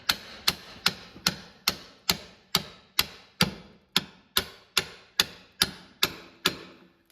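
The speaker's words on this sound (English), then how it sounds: "Wee heavy hammer." Steady heavy hammer blows on metal, about fourteen sharp ringing strikes at an even pace, close and loud with no talking.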